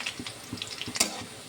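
Onions frying in mustard oil in a wok, with soft sizzling and a few sharp stirring scrapes and clinks, close and moderately quiet, no talk.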